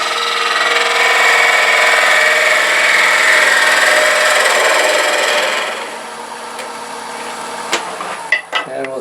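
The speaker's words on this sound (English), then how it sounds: "another thing you can try is your good old bowl gouge" Bowl gouge taking a very light cut on a turned wooden box, a steady broad scraping hiss lasting several seconds, then fading into quieter scattered taps and clicks near the end.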